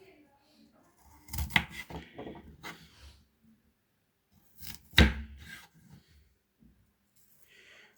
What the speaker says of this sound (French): Maintenant on passe à l'éminçage